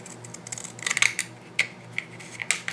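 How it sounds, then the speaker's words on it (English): Scissors snip through a cardboard paper towel roll in a handful of quick, crisp close cuts, irregularly spaced and fairly quiet, over a low background hum. "So just cut it straight across."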